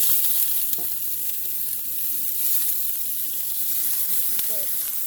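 Steak sizzles loudly in a hot oiled pan, a dense, steady, close hiss with occasional faint clinks of utensils.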